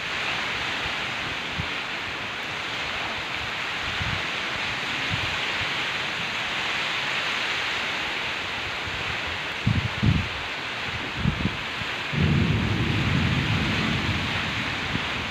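Unseasonal midsummer rain driven by strong gusting wind makes a dense, continuous outdoor roar, with a few low buffeting thumps toward the end; no voices.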